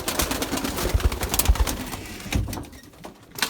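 Racing pigeons are released into flight, with soft cooing and bursts of flapping wings close by, and scattered clattering noises among them.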